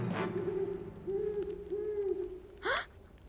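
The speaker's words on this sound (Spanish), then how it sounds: "Es solo una lechuza." Cartoon owl hooting in a dark forest, a series of soft, rounded hoots repeated several times in close succession, followed by a brief higher swooping call.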